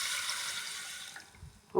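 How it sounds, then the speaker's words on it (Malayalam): Water is poured onto washed green gram in a pot, a brief, quiet hiss of running liquid that tapers off, ending with a soft knock. "നല്ലപോലെ കഴുകിയെടുത്ത ചെറുപയർ കുറച്ച് വെള്ളം ഒഴിച്ച്"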